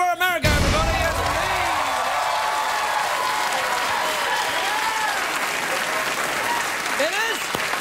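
Loud, sustained studio audience applause at a late-night talk show monologue, filling the whole stretch with dense clapping and a few whoops, while a voice speaks over it.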